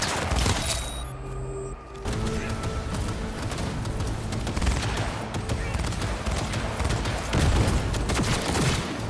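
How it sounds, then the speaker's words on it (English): A sustained fusillade of gunfire from Cyberpunk 2077, dense overlapping shots and bursts running loud for several seconds after a brief quieter lead-in, with voices buried under the shooting. "We're opening fire!"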